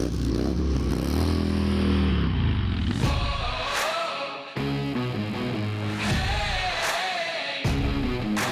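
A Harley-Davidson motorcycle engine with an upgraded exhaust system, loud and close, with rising revs and abrupt cuts followed by sharp restarts, under backing music.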